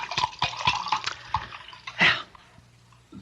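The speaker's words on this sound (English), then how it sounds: "Have to refill this little glass? Pour you one?" Liquid is poured from a bottle into a small glass in a radio drama scene, a short gurgling splash with uneven glugs that stop after about two seconds, close and fairly loud with no voices.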